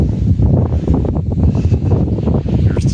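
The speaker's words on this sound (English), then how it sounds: "the wind is whipping" Strong wind buffets the microphone at sundown around a campsite at Beauty Spot, jostling a tent, a continuous loud rumbling roar with gusty fluctuations, close and unbroken throughout.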